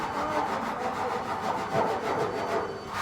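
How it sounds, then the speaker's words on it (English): Steady rasping strokes of a hand rasp filing down high spots on a car body panel, a continuous coarse scraping with faint rhythmic pulses, close and fairly loud with no voices. "I use a rasp and just take off the high bits."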